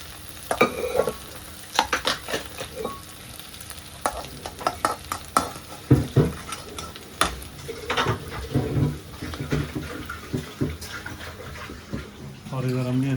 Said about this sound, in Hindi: और इधर कर रहे हैं आलूओं को फ्राई